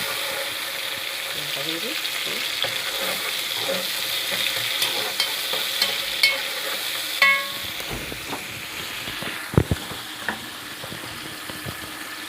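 Onion and cinnamon sautéing in a pan, a steady close sizzle with intermittent scraping and clinking stirring strokes, including a couple of sharper knocks. Someone speaks briefly over it.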